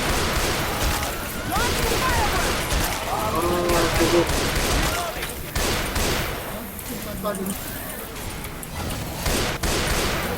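Shotgun fire in the video game Left 4 Dead 2, with dense repeated blasts and gunfire in a loud, chaotic mix alongside excited voices talking and laughing over it.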